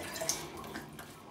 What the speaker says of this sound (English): Let's have a little rinse.